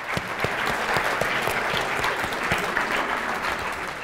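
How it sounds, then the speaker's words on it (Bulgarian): Applause from a conference audience at the closing of a QA challenge event, steady clapping with sharp individual claps throughout, no voices. "Аплодисменти, аплодисменти."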